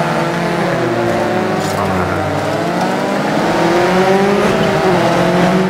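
Group B rally car engines roar and snarl steadily while racing in DiRT 4, loud and continuous throughout, with someone talking over them.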